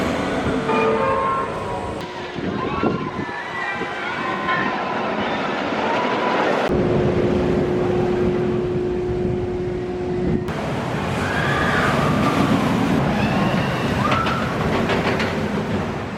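Steel Dragon 2000 giga roller coaster at a Japanese park: a loud continuous rumble and roar of the train on track, with rattling and mechanical whine shifting through the ride.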